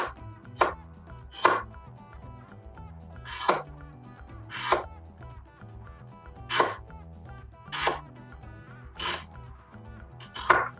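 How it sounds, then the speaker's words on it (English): Fresh ginger chopped with a knife, sounding as eight sharp, evenly spaced thuds on a cutting board at a slow, deliberate pace, close and clear, with a low hum underneath and no speech. "So I've got the ginger, and I'm going to chop that up."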